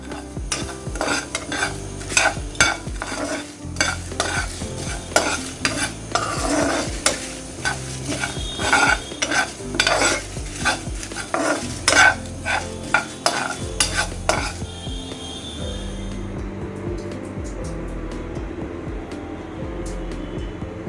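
Whole cumin, fennel and dried chillies frying in oil for a dahi bara spice mix, with a spoon steadily scraping and stirring the pan over a busy sizzle that softens and calms for the last few seconds.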